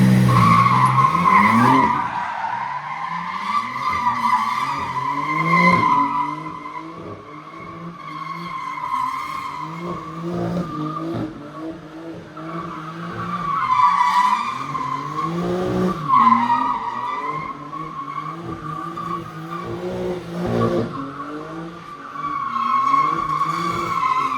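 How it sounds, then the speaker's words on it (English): A 2024 BMW M3 CS spins donuts, its tires squealing almost continuously over the revving engine, with the pitch rising and falling in repeated cycles as the car circles nearby; no voices. "Quickly play the clip of Jacob doing donuts"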